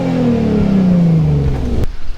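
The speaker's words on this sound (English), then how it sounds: "I'm gonna do one rev in the car. I'm gonna show you guys how it sounds." A single loud engine rev from a custom-tuned Hyundai Genesis Coupe 3.8 V6 spins down in pitch over about two seconds, ending with a sharp click.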